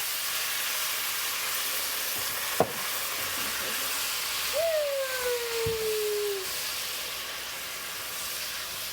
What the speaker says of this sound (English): The next thing we're going to do is add some rice wine vinegar.